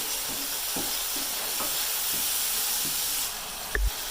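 Spiced potato and capsicum masala, seasoned with garam masala, dried coriander and salt, frying in a pan, giving a steady close hiss and sizzle with a few soft stirring clicks and a brief louder knock near the end.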